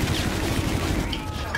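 A chain gun in Call of Duty: Infinite Warfare unloads in a rapid, continuous stream of shots, loud and close, steady without pause for the whole moment.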